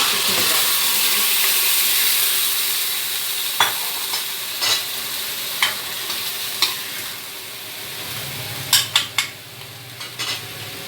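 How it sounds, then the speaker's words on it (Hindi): Golden fried onions sizzle steadily in a pan, a constant hissing fry with sharp clinks and scrapes of a spoon as spices go in and get stirred, the clatter growing busier toward the end. "ये प्याज जो है ये हो चुकी है फ्राई, सुनहरी हो चुकी है।"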